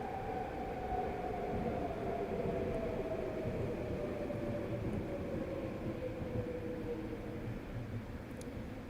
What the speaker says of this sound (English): That train comes by.